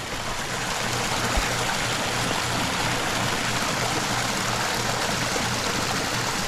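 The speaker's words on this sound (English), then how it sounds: "This water current right here" Backyard pond waterfall pouring water into a pond in a steady, full rushing flow, close and continuous with no pauses and no talking.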